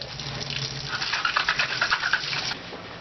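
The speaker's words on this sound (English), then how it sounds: "To dehydrate apples, first you need to wash them well." Apples being washed under a running tap, a steady stream of water splashing and pattering over the fruit in a sink, close and continuous with no talk.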